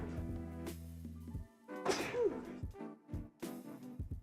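A single sharp sneeze bursts out partway through, set against low hum and quiet indoor room tone at a pool hall during a billiards tournament match, with a few soft knocks after.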